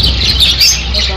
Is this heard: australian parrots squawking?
yes